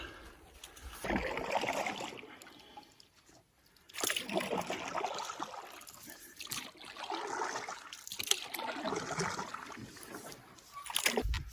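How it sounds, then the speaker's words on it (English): Running water near a beaver dam on a fall canoe route toward Siderock Lake, a steady broadband rushing wash that swells and eases in waves throughout, with no talk. "But I hear running water."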